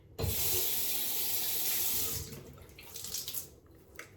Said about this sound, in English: I wet the sponge